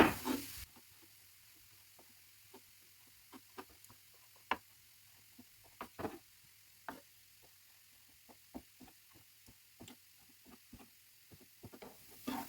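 Raw liver being sliced into pieces with a knife for liver patties, heard as a string of sharp, separate cutting taps and knocks at an irregular pace, fairly close and quiet, with no talking.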